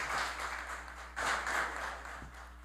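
Applause in a municipal council plenary session honouring a teacher, faint and distant clapping in two swells over a steady low hum.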